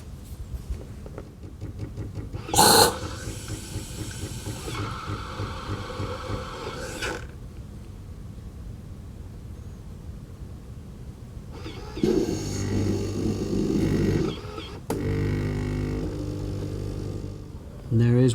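Lavazza Blue Classy capsule machine making a macchiato with frothed milk: a sharp click, then a steady pump hum with rattling vibration, a pause, and a louder buzzing, gurgling froth phase near the end, close by.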